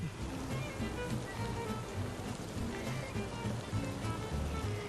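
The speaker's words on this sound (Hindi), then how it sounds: "केवड़े का पानी डालेंगे।" Kewra water is poured into a pot of chicken biryani, making a continuous soft splashing, trickling wash of liquid that is fairly quiet and even.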